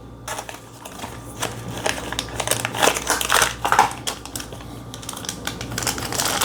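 Packaging for a camera filter being ripped open: crinkly tearing and rustling of plastic and paper close up, in rapid irregular bursts, with no talking.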